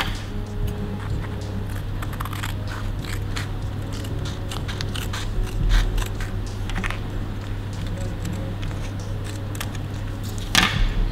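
Scissors cut a paper triangle in half, making soft crinkly snips and crackles over a steady background hum, with one sharper crunch near the end.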